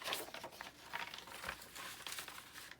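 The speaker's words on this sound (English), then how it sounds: "Nice crunchy avocado dyed paper." Faint crinkling and crunching of stiff avocado-dyed paper being handled, soft irregular rustles up close in a quiet room.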